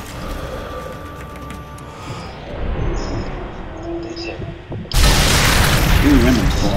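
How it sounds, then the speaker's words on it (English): Gunfire in the video game Sniper Elite 3 during a co-op campaign firefight, rumbling shots and booms that swell loud near the end, with players talking over it. "we started the gunfight"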